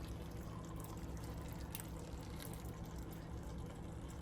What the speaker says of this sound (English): you want to go in with your Chipotle sauce. And you want to just dump it on top of there.